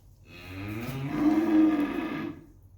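A cow on a livestock farm gives one long, loud moo that swells and fades over a few seconds, close by and alone without talk.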